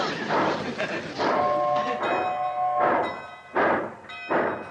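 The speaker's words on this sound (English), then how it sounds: "Who's blowing that locomotive whistle?" Steam locomotive whistle blows in sustained tones as a train pulls out of the station, with loud rail clatter and people talking over it throughout.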